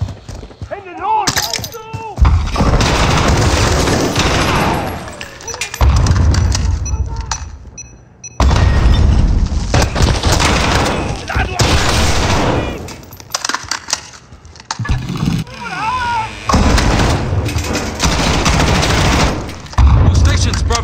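Mortar blasts and gunfire rage through a Call of Duty Modern Warfare battle around a target building, with long stretches of loud, dense firing and explosions broken by brief lulls, while voices talk over the combat.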